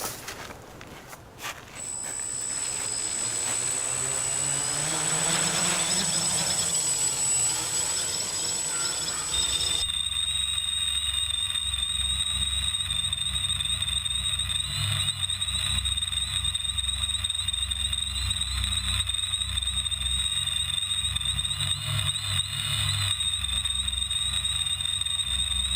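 A Parallax Elev8 quadcopter flies in a backyard with a steady, loud, high-pitched whining hum of its rotors that holds throughout, after a brief scramble of handling and spin-up noises at the start.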